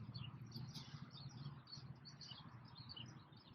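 Birds chirp and twitter at dusk or dawn, small faint calls repeating over a low, constant hum of distant traffic and aircraft.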